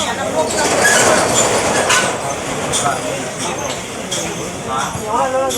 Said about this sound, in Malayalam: ട്രെയിൻ ഈ കാണുന്ന ട്രാക്കിൻ്റെ ഇടയിൽ കൂടെയാണ് കടന്നു പോകുന്നത്